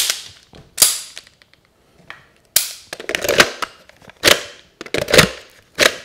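Sharp metallic clicks and clacks from handling a 1911 Springfield Prodigy pistol come in irregular bursts, close and crisp, with quiet gaps between.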